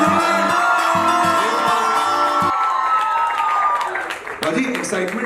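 Audience clapping and cheering at a televised swayamwar show mixes with loud music and shouts, crowd noise swelling and then thinning out toward the end, with voices calling over it.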